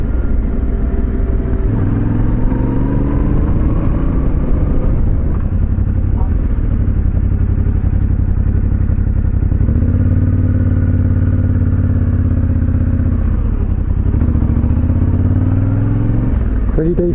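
A Yamaha Tenere 700 engine drones steadily while riding, with its pitch rising and falling through gear changes and throttle shifts, loud and close throughout.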